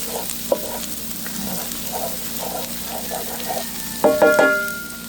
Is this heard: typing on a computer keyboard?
no